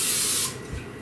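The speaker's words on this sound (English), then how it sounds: "So let me give this a little spray." Cooking oil spray misted over tortillas: one short, close hissing burst lasting about half a second, then a faint soft knock as it stops.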